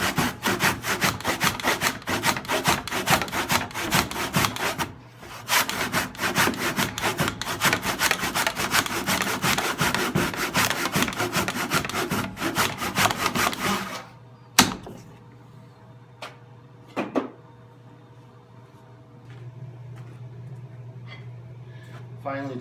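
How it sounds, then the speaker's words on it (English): Handsaw finishing a cut through a timber-frame brace tenon, rapid rhythmic rasping strokes of the saw biting wood that run steadily for about fourteen seconds, then stop, followed by a few knocks and quiet handling, with some talk. "a little bit of handsaw work just to finish off the cut."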